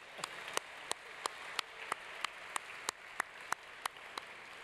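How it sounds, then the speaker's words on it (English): Guests at a celebration dinner applaud in a soft, distant wash of clapping, with one crisp clap standing out at a steady, even beat throughout. "Let's give ourselves a big round of applause."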